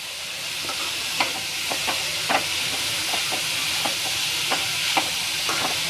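Grated carrot frying in ghee for carrot halwa, a continuous bright sizzle with regular spoon scrapes and stirring clicks throughout, close and steady.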